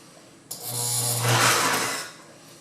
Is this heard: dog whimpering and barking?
no